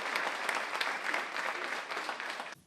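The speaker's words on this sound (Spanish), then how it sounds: "Jo us deixo, Manolo, al que vos demane que el recibim en un fort aplaudiment." An audience at a senior university opening ceremony bursts into sustained, even applause that fills the whole stretch, dense and steady before cutting off abruptly at the end.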